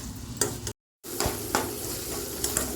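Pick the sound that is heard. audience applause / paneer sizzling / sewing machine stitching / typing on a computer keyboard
paneer sizzling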